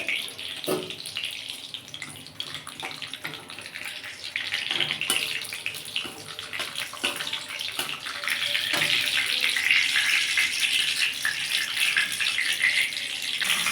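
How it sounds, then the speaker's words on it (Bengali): Bay leaves dropped into hot oil in a wok for a Bengali chicken curry give a steady, bright sizzling hiss. The hiss is close and continuous, grows louder partway through, and carries a few sharp crackles, with no talking. "এবার আমি এতে একটু তেজপাতা দিয়ে দেবো ফোড়ন হিসাবে"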